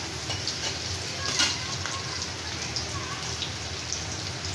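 Onions sizzling and frying in a pan for a vegetable bhaji, a steady crackling hiss with a few light stirring clinks, close and even, with no talk.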